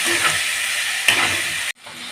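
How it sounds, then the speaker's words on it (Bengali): A vegetarian curry sizzles loudly while it is stirred and sautéed in a pan, a dense close frying hiss with one sharp scrape near the middle. It cuts off abruptly, then resumes more faintly. "আমি একটু নাড়াচাড়া করে নেব একটু কষিয়ে নেবো আমি"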